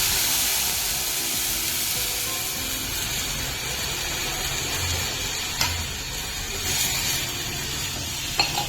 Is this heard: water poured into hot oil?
yes